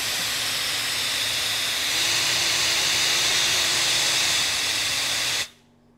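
An Ona Pixel high-speed hair dryer blows with a steady, loud airy whoosh that swells slightly, then cuts off abruptly near the end.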